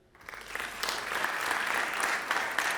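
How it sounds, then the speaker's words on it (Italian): An audience at a Comedy Central Live stand-up show breaks into applause, swelling quickly from silence into steady, dense clapping that carries on to the end. "Raga, mi fate un applauso se avete un cane a casa?"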